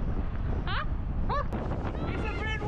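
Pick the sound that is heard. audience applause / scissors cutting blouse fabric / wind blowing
wind blowing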